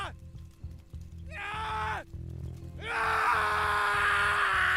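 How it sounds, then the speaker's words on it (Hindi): A man screams loudly as if in agony, drawn-out harmonic cries rising in two long bursts, the second louder and sustained, over a low droning background at night. "कोई आदमी जोर से चिल्ला रहा था, जैसे तड़प रहा हो।"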